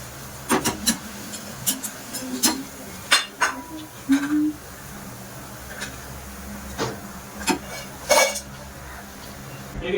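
Crispy fried moong bhaji being lifted out onto a metal plate produce a series of sharp clinks and light clattering taps at irregular intervals, close by, over faint background hum.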